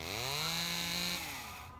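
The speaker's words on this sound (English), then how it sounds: "The frickin' chainsaw sound!" A chainsaw roars in the horror video game Spirit Hunter: Death Mark, a loud sustained droning buzz with a rising pitch that holds for about a second before fading away, with no voices over it.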